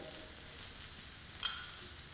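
Shallots sizzle softly in coconut oil, a faint, steady frying hiss with a brief brighter crackle near the middle, heard alone without talk.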